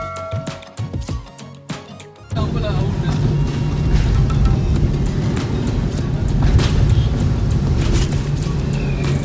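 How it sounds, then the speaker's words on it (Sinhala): Road noise from inside a vehicle on a tour drive: after a brief quieter start with some music, a loud steady engine and rumble sets in, with motorbikes passing close by and droning alongside. "අපි වාහනේ ඇතුලේ ඇද්දිත් අපිට ඇහෙන්නේ මේ බයික් වල සද්ද විතරයි"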